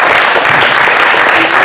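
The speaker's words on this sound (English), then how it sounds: "one round of applause to the artists that performed last" Steady, dense applause from a crowd fills the whole moment, loud and close, with no pauses.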